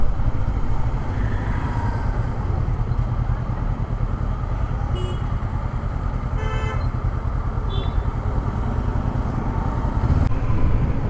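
A Honda NX500 motorcycle riding through traffic, its steady engine drone continuous and close throughout, with a few brief horn toots from nearby vehicles partway through.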